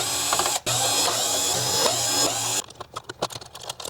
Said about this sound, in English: now we can unscrew the motherboard itself